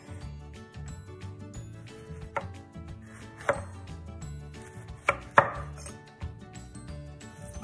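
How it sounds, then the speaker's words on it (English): A knife cuts the ends off Valencia oranges on a cutting board for candied peel, giving a few sharp separate thuds and chops spread over several seconds with quiet moments between them and no talk. "So what you do is chop both ends off"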